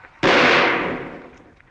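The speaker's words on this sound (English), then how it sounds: "Wait, I'll fire a shot." A single gunshot fired as a signal to people lost in a cave, one sharp loud blast with a reverberant tail that fades over about a second, with no talking.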